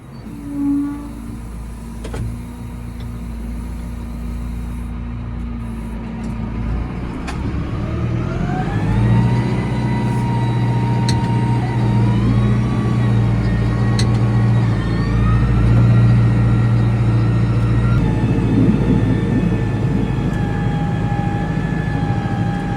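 A 5711M tractor labouring up a steep farm slope, its engine droning steadily and climbing in pitch as it pulls harder, loud and close with no talk.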